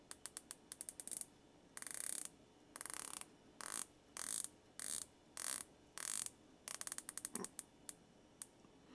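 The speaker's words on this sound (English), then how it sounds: "It's very distinct clicks to the bezel." A dive watch bezel made of tungsten and stainless steel being turned, giving crisp ratcheting clicks in quick bursts, some rapid runs and some slower single detents, close up with no talking.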